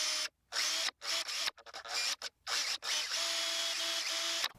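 A handheld power drill bores a bit through a small wooden fishing lure body in several short whining bursts, with brief silent pauses between them and the motor pitch steadying in the final longer run.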